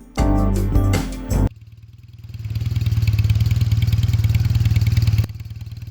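A loud burst of clattering mechanical noise cuts off, then a bobber motorcycle engine idles steadily with a rapid, even putter before abruptly stopping.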